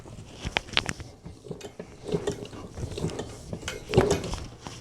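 Clicking ratchet-like tightening of an embroidery hoop clamped on a hoodie, a run of short close mechanical clicks and creaks that continues steadily at moderate loudness with no talk.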